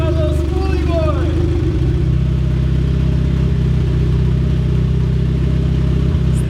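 A turbocharged B18 engine in a Civic hatchback idles loud and close just after start-up, a steady low droning rumble throughout, with a person's voice heard briefly at the start.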